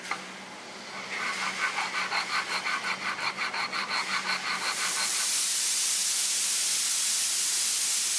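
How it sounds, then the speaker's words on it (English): A '68 Dodge Charger R/T metal deck is sanded flat with rhythmic back-and-forth strokes, followed by a loud, steady hiss that continues to the end, close up and with no voices. "We got to keep sanding until we get rid of all the red."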